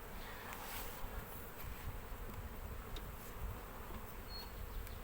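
Honeybees swarm at an open, crowded beehive, a dense continuous buzz that stays faint and even with no voices.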